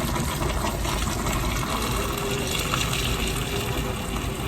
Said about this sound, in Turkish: Sıcak suyumu şöyle bir güzel döndürelim.